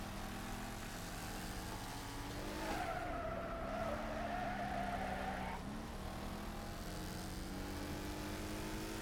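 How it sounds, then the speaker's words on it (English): Car tires squeal in the Wreckfest racing video game, a sustained screech over a droning engine for a few seconds mid-clip, with no voices. "Oh, listen to those tires squeal."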